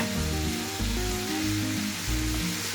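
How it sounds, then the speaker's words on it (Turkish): Garlic sautéing in a pot at the start of a meat-and-eggplant stew gives a steady, close sizzle throughout, with sustained tonal notes, like music, running over it. "Bir dakika kadar kavurdum. Sarımsağımın kokusu çıktı."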